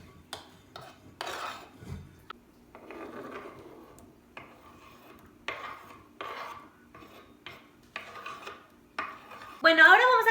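Kitchen knife dicing tomato into small cubes on a cutting board for a soy ceviche, a series of irregular light chops and taps with scraping, close and clear, ending in a louder clattering burst.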